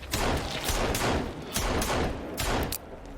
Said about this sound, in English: Now I'm seeing a pistol in the game. The pistol looks fire. It sounded alright